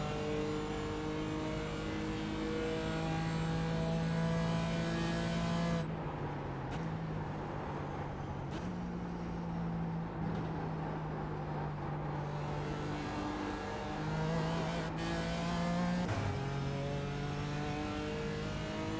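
A BMW 328 race car engine in iRacing sings through the gears, a loud steady close drone rising in pitch with each pull, briefly dropping at shifts, with no talk over it.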